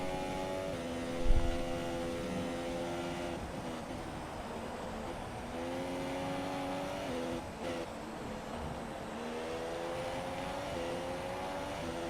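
A Formula 1 car from the F1 2017 racing game laps the Austria circuit, its high engine note holding steady with shifting pitch through corners, a continuous close drone with a brief low thump early on and no talk.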